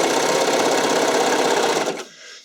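Sewing machine running steadily while stitching a bodysuit at a moderately long, wide stitch, a loud continuous whirring that stops abruptly near the end with no talk.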